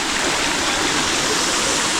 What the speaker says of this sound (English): we are finally at Sheldrick Waterfalls